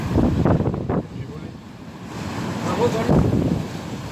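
Wind and surf from a high spring tide at Saint-Malo, a steady windy rush with a couple of heavier wave surges, close to the microphone, with no clear voices over it.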